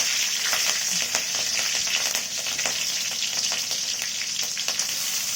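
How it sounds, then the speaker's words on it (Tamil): Green chilies fry in hot oil among spluttering mustard seeds, a dense, loud crackle of quick pops over a constant sizzle. "பச்சை மிளகாய் போட்டுக்கலாம்"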